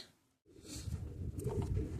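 A pigeon held in the hand gives low, soft cooing, faint and close, after a brief pause at the start.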